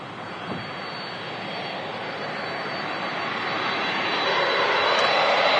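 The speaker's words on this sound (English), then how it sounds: "the Turkish just starting its takeoff roll" A Turkish Airlines jet airliner begins its takeoff roll at Manchester Airport, its engines holding a broad, steady roar that slowly swells louder from a moderate distance.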